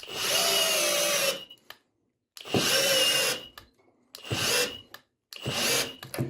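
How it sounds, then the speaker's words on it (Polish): A Yato YT-82797 cordless drill driver rated at 42 Nm drives a screw into wood, giving four loud, close bursts of motor whine separated by short silent pauses. "Generalnie tak to mniej więcej powinno wyglądać, skoro wkrętarka ma 42 Nm i tak to wygląda."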